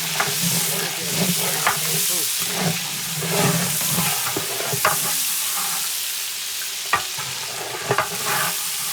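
A large batch of onions, about a kilo, frying and being stirred in a big pot of oil for a village feast, with a steady loud sizzle and hiss and intermittent scraping knocks from the stirring.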